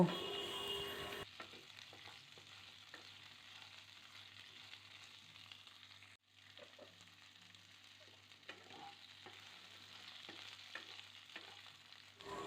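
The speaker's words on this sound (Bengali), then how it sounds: "এই বিনসগুলোকে দিয়ে মিনিট খানেক নাড়াচাড়া করে নেব, অর্থাৎ ভেজে নেব" Whole green beans stir-fried in a pan sizzle softly and evenly while a spatula scrapes and taps now and then, close but quiet.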